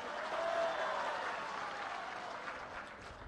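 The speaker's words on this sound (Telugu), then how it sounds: "వాస్తవం అయితే ఒక్కసారి గుర్తు తెచ్చుకొని చప్పట్లు కొట్టిండే వాస్తవని." A crowd at a public government event claps in a dense, steady wash of applause, fairly distant and fading slightly toward the end.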